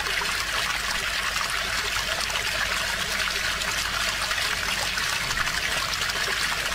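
Rivers run steadily in a continuous close trickling, splashing rush of water that never lets up, with no voices.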